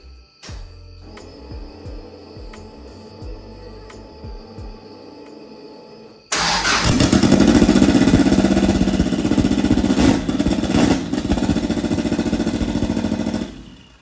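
Home-built race car with a 500+ hp EJ engine started for the first time: a few seconds of cranking and clicks, then the engine catches and roars loudly at a rough, throbbing idle before cutting off.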